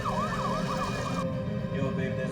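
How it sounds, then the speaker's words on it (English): A police car siren blares in a wailing sweep, steady and fairly loud, before switching to a different tone midway, with a low rumble underneath. "With his siren blaring, he slowly made his way into the neighborhood."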